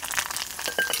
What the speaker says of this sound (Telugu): ఇప్పుడు వీటికి తాలింపు వేసుకుందాం